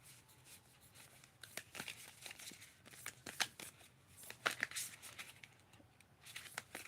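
A brand-new deck of cards being shuffled close up, with quick bursts of riffling and snapping that come in irregular clusters over a quiet background.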